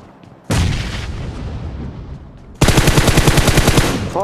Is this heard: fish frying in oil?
no